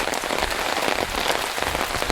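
Heavy rain pouring down outdoors during the rainy season, a dense, loud, unbroken patter of drops striking hard surfaces nearby.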